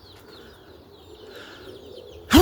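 Roller pigeons settling back at their home loft, with soft, low cooing murmuring faintly beneath light chirps, ending in a sudden louder burst at the close.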